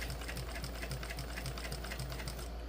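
A sewing machine back stitches a crossbody bag with a quick, even run of rapid needle clicks, close and steady, stopping just before the end.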